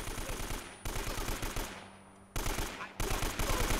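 Sustained full-auto gunfire from Uncharted: Drake's Fortune, rapid rhythmic bursts of shots separated by brief pauses, loud and close with no talk over it.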